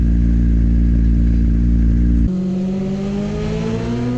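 A Honda CBR600RR sportbike at full throttle along Wheatcroft Straight at Donington Park during a novice trackday, its loud, high-pitched inline-four engine wailing up close, then shifting gears and climbing again in pitch.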